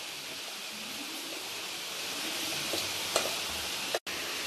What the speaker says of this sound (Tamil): இப்போ நம்ம அரைச்சி வச்சுருக்க கடுகு வெந்தயம் அதை நல்லா ஆட் பண்ணி அதையும் நல்லா இந்த மாதிரி நம்ம கலந்து விட்டுக்கலாம்.